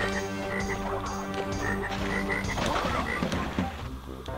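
A toad in the Crash Bandicoot: Warped video game croaks loudly and steadily over a layered game soundtrack, its repeated croaks filling the whole stretch.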